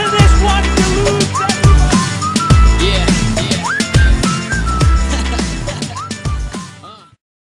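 A person whistles loudly in rising and falling glides and short notes over a dense, steady musical backing, continuing for about seven seconds before stopping abruptly.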